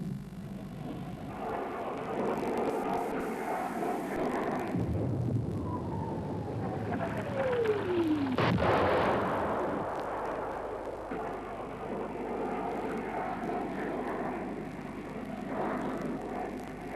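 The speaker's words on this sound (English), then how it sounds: "Powered by a huge afterburning turbofan, the AJ-37 attack Viggen is the first and most numerous of a variety of versions of this aircraft." A Saab AJ-37 Viggen attack jet with a large afterburning turbofan engine roars past, a loud sustained rumble with a falling whine as it flies by. A sharp boom comes near the middle, then a steady engine drone.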